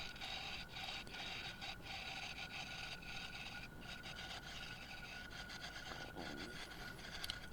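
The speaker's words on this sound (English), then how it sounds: "I'm still using the gouge" A wood gouge carves Osage orange wood for a mallet, giving a steady, faint rasping scrape that repeats in short strokes, close up, with no talk.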